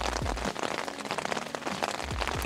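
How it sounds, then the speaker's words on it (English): Rain patters steadily on a surface along a long-distance hiking trail, a close, dense drumming with scattered louder drops and no voices. "It's raining."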